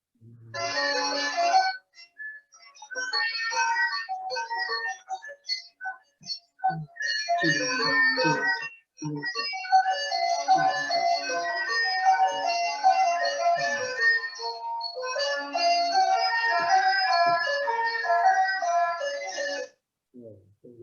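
Thai folk tune played at a doubled, faster tempo for a sixth-grade music lesson, a bright melodic line running in long phrases with brief pauses between sections and no voices over it.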